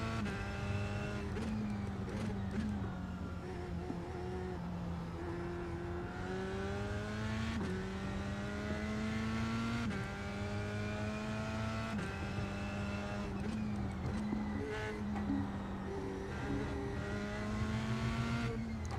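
A Formula Vee race car's engine in the iRacing sim at the Nürburgring, steady and prominent as it climbs through repeated upshifts, each rising whine dropping sharply before building again.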